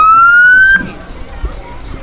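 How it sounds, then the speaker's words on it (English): A loud fire engine siren from the Brighton Fire Department wails with a rising tone, then cuts off abruptly, leaving quiet background noise. "And I hear some sirens."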